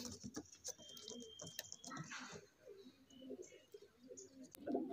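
Faint, soft cooing from pigeons at a rooftop loft where golden and batera breeds are kept, mixed with light tapping, rustling and low background noise.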